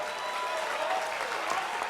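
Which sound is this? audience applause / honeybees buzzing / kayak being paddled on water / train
audience applause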